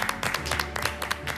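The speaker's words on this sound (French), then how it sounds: "Mais moi j'applaudis tout le temps," Brief burst of close hand clapping from a small group of contestants in a television baking competition studio, several quick overlapping claps without talk.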